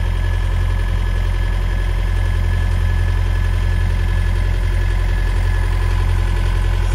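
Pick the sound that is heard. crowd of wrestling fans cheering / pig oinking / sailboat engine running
sailboat engine running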